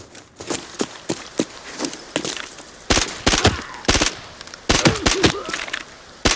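A Vector SMG fired in short bursts in a shooter video game during rough weather, rapid cracking shots grouped into brief volleys with gaps and some footstep-like thuds between, loud and close.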